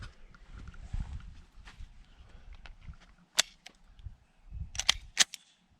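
Several sharp 9mm pistol shots fired by a shooter in handcuffs: one isolated crack, then a quick cluster of three near the end, loud against a low rumbling background.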